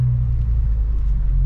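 Manual-transmission car engine under light throttle while a new driver learns stick shift, a low steady rumble heard from inside the cabin with a slight rise in revs, brief and continuous with no talk.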